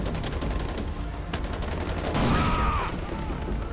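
Gunfire in the Far Cry 4 video game comes as rapid automatic bursts of close, loud shots, then a sweeping whoosh and rumble. A voice talks faintly underneath.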